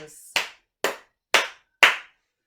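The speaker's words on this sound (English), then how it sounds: "Clap your hands." Four sharp, evenly spaced hand claps ring out alone during a children's Simon Says game in an infant-school English lesson, each clap crisp and close.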